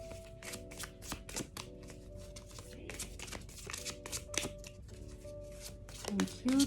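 A tarot deck is shuffled in quick repeated riffles and flutters of cards, close and crisp, under a quiet tonal background with a faint voice at the end.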